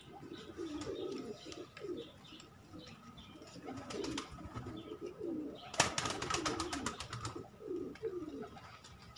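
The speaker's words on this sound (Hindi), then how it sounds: "सो इसी तरह काफ़ी ज़्यादा कबूतर है मेरे पास" Pigeons kept by a breeder coo repeatedly in soft, low throaty phrases, several birds overlapping near and far, with chirps and a burst of fluttering or rattling clicks midway.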